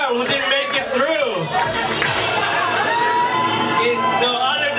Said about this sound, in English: A round of applause to Carmel, please.